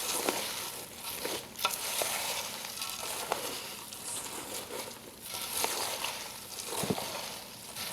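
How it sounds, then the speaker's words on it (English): Corn Chex cereal is stirred in a bowl with a chocolate coating, giving a continuous close rustle and crackle of dry pieces tumbling, with soft scrapes recurring every few seconds. "Put it all in and then stir it until there's a nice even chocolate coat on"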